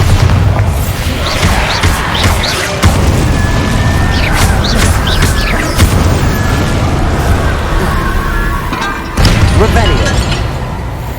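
Booming magical blasts from the Bombarda spell in Hogwarts Legacy fighting Inferi, loud and dense, with a sharp burst near the start and another near the end amid continuous game clamor.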